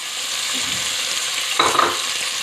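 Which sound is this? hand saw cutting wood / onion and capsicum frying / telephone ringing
onion and capsicum frying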